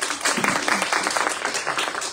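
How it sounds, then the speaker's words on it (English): A crowd at a membership meeting applauds steadily, a dense wash of many hands clapping at once, sustained and fairly loud. "a big round of applause for them"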